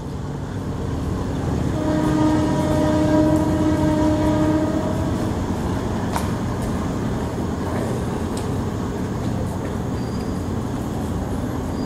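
A train rumbles through Ban Thap Chang railway station in the evening, sounding a long two-tone horn early on before the steady rolling noise carries on, with no speech.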